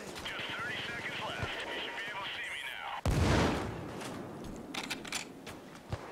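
Trip mine blast in the Payday 2 heist game: a sudden heavy boom midway through, rising over game noise and gunfire-like clatter, with people talking over it.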